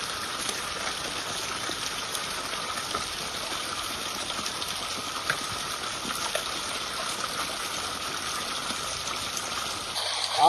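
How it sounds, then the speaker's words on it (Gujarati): Water gushing from a pipeline into a groundnut field, a steady, fairly loud broadband rush that continues unbroken throughout with no talk. "અમે આ પાઇપલાઇનમાંથી પાણી કાઢી અને કરતા હોઈએ છીએ"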